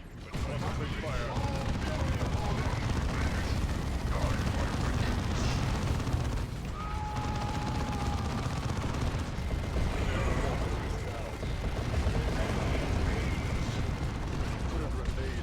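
Gunfire and artillery roll on without pause in a Warhammer 40,000 Dawn of War II battle: dense, loud, overlapping shots and booms with occasional unit voices calling out over the din.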